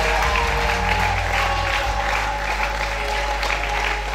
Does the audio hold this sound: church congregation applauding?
yes